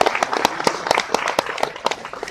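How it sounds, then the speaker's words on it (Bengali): Applause from a live audience honouring a celebrated actor, a brief burst of scattered, fairly close hand claps with a rapid uneven rhythm. "তার জন্য আরেকবার একটু সুন্দর করে হাততালি হোক"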